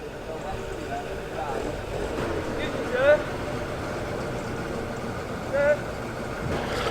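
A V6 engine in a custom classic car idles steadily nearby at an outdoor classic car show in Malvern, with a low, even rumble, while people talk over it throughout.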